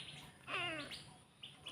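A faint bird chirps at dusk in a short warbling burst, with softer tweets after it against a quiet, hushed background.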